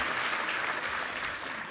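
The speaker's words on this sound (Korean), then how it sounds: "한번 힘찬 격려 박수 부탁합니다" Church congregation at a Sunday worship service applauds the men's vocal ensemble, a dense, steady wash of clapping from a large crowd that holds evenly throughout.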